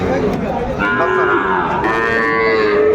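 A Sahiwal calf moos at a busy cattle market, giving a loud, sustained bellow of about three seconds that rises in pitch partway through. A faint crowd hum sits beneath it.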